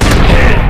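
A bomb goes off in a BGMI-style battle royale mobile game, a loud, close, booming burst lasting under a second.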